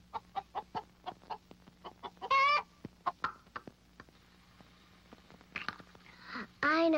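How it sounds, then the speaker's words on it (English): Hens clucking in a short run of rhythmic clucks, followed by a couple of louder drawn-out calls, with quieter gaps between the bursts. "Hens cluck."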